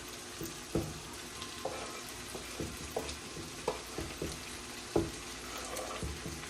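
Fish pieces drop into a hot pot of bacon and small yellow potatoes for bluefish chowder, setting off a steady crackling sizzle with several sharp splashy thumps as chunks land and get stirred, close and moderately loud, with no talking.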